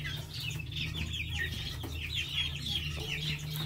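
Silkie chicks about two months old clucking and peeping close by, a run of soft repeated chirps over a low steady hum, with no voices.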